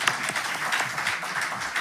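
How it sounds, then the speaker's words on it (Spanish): Audience applause for a professor at a university human rights forum, a brief steady burst of many hands clapping at moderate loudness with no talk over it. "expresar el aplauso que teníamos guardado al profesor Fernando Atria"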